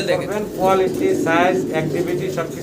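Hungarian House pigeons, a pair kept at a fancy pigeon loft, give soft repeated coos mixed with bird calls while people talk over them throughout.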